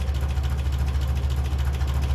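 A 1957 Ferguson 35 tractor running on TVO idles at steady tick over after a carburettor mixture adjustment, producing a low, even, close-up rumble with a regular pulsing beat.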